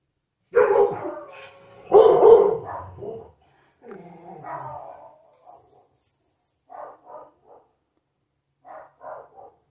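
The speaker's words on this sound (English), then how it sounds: "Doggies are having a fit." Dogs bark loudly and close by in a home, in two strong bursts. Shorter, fainter yips and barks follow in scattered groups.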